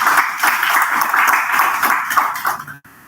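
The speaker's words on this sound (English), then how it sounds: "Can we give a round of applause to everyone?" An audience at a youth ideathon launch event gives a round of applause, steady mixed clapping filling the room for a few seconds before cutting off abruptly.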